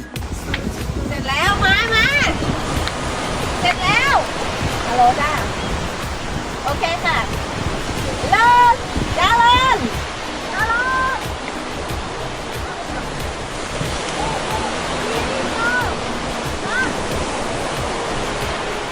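Surf rolling onto the beach at Pran Buri near Hua Hin, a steady broadband wash of sea waves that continues throughout, with people talking and calling nearby over the top of it.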